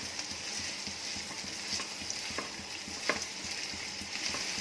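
Thinly sliced onions fry in hot ghee with a steady, close sizzle, and soft stirring clicks break through now and then.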